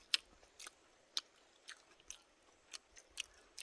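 Crispy hotteok cooked over a wood fire, filled with walnuts and cabbage, is bitten and chewed, giving sharp, irregular crunches, about eight in a few seconds, quiet and close with no talking.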